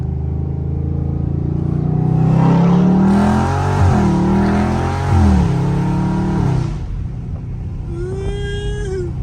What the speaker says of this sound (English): My supercharger one kicking in.